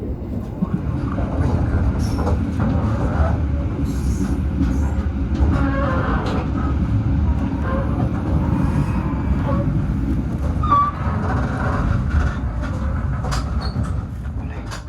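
A passenger train rumbles steadily along the rails, its low clatter constant throughout with occasional faint squeaks and knocks, heard from on board, in Java, Indonesia.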